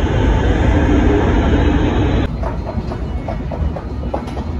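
A train pulling into Antwerpen Centraal, a large multi-level station, with a steady loud rumble that drops abruptly midway into softer rolling noise and faint rhythmic clicks from the cars.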